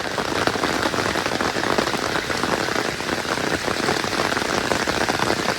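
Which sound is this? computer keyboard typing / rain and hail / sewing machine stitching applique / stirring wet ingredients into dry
rain and hail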